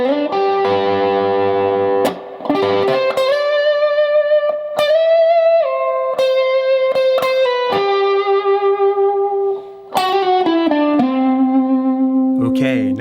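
Electric guitar plays a solo lick through distortion and effects, with long sustained bent notes, slides and a few brief pauses, loud and close with no talking.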